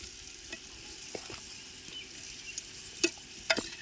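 Chicken cooks in a clay pot while a little water is added, giving a quiet sizzle with scattered stirring scrapes and soft taps, close and low in level.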